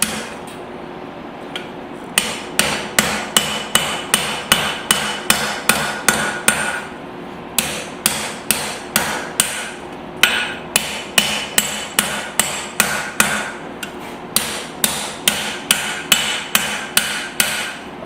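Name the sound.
rounding hammer forging hot steel tomahawk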